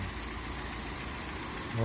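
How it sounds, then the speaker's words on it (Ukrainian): A Volkswagen Crafter van engine idles with a steady low rumble, close and even, briefly louder near the end. "Моторчик зараз заведений він. Прекрасно робить моторчик."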